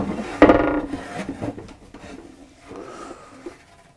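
A soft-close wooden cutlery drawer on a Hallberg-Rassy sailing yacht slides and bumps shut with a soft rattle of cutlery, followed by a quieter scrape and settling.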